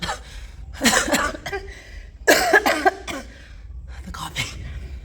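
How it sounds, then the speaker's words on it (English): A close-up coughing fit: harsh, raspy coughs in three bursts separated by short pauses and ragged breaths. "The coughing attack."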